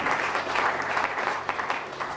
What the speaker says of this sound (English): So could we please give him another round of applause?